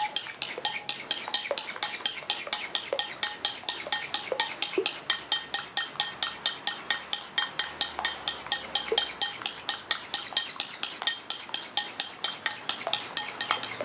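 A metal spoon clinks steadily against a dish in a fast, even stirring rhythm, close and bright, with light scraping between the strikes, repeating for the whole stretch.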